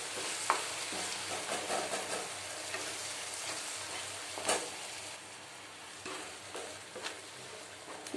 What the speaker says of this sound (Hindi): इसी तरह इसको लगभग 3 से 4 मिनट और भून लूंगी, पका लूंगी।